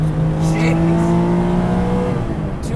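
A Guntherwerks Porsche 400R with a 435-horsepower engine drones loudly and steadily on the move, its engine note holding a sustained pitch that swells slightly toward the end.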